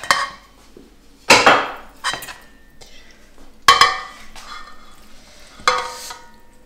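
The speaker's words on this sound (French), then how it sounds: "Donc là, vous voyez la moitié d'un paquet de fromage frais. Je mélange le tout." Spinach and cream cheese filling stirred with a utensil in a bowl, giving a few scraping, clattering strokes at irregular intervals, close and fairly loud with quieter rustling between, no talk.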